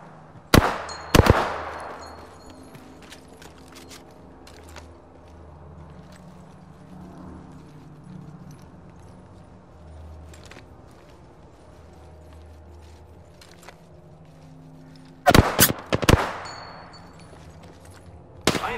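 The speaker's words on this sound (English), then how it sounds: "Opening fire on the enemy." Gunfire in a battle royale video game: two sharp bursts of rapid shots open the scene, followed by a quieter stretch with low ambient rumble, then another cluster of loud shots near the end.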